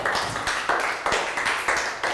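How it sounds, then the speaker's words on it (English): A Year 3 class in a health education lesson breaks into applause for a classmate, a quick burst of rhythmic, evenly spaced hand claps from a group of children. "Round of applause for Lakau"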